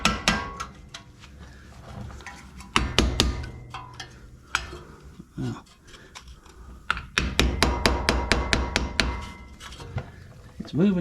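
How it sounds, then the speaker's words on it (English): Metal hammer blows strike the front axle u-joint of a Ford F-250 during replacement, landing as sharp, loud clanks in uneven clusters that speed into rapid runs of strikes, with someone talking briefly between them. "I'm going to have to get in a double hammer."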